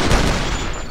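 Rapid blaster fire from an Ant-Man weapon mod in GTA, a dense, continuous volley of punchy shots filling the full second at steady loudness.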